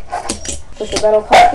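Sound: dog barking

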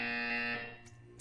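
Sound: buzzer in the video game Portal 2

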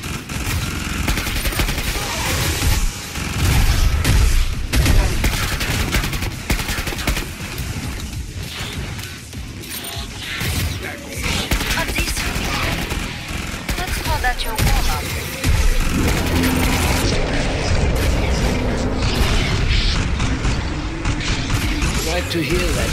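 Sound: gunfire in Killing Floor 2 video game

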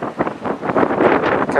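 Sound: wind gusts

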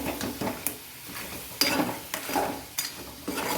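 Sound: stirring prawns in a pan

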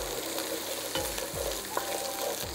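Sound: garlic-ginger paste frying with onions in oil

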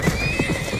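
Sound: panicked horses, hooves and neighing

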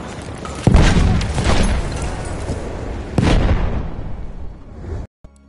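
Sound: grenade explosion in a video game

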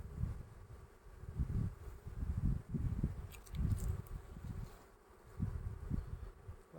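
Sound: honeybees buzzing on hive frame

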